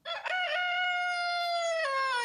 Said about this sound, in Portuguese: que animal que faz esse som aqui? Vamos escutar. O galo.